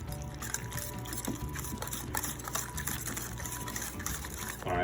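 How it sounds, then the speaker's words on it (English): Cottage cheese, lemon zest, salt, pepper and an egg whisked together in a bowl, a continuous rapid wet rattling and tapping, close and steady throughout. "Take a whisk and let's just mix all this together."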